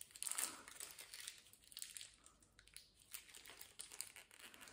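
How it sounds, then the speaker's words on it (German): Paper packing crinkled and crumpled while being pulled out of a GameStop loot box, a close, continuous rustle with sharper crackles at the start and scattered crinkles throughout, no talking. "Das Papier da raus tun."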